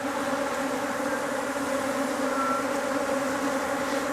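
Honeybees swarming out of a top bar hive make an unbroken, even hum of many wings, fairly loud and close, with nobody speaking.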